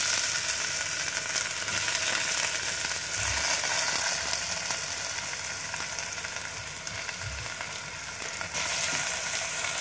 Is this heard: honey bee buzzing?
no